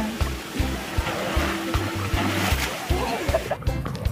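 Swimmers splash and dive in the cold, running mountain water of Pongol Spring in Bicol, with irregular sloshes and splatters close by and voices talking in the background.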